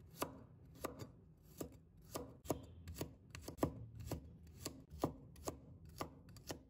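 A knife slicing garlic cloves on a cutting board while preparing a home-style stir-fry of green beans and pork, giving crisp, evenly spaced chops in a quick steady rhythm, close and fairly quiet.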